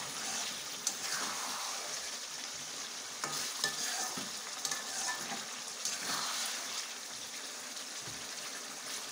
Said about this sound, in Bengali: একটু কষিয়ে নিচ্ছি মাছটা